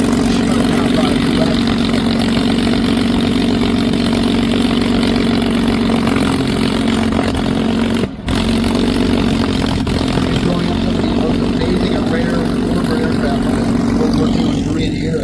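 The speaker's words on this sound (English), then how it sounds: "finally a P-40 Warhawk, the famous" A P-40 Warhawk fighter plane at an airshow holds a steady, loud engine drone with a constant hum and a brief dropout midway, and the crowd noise and commentary carry on beneath it.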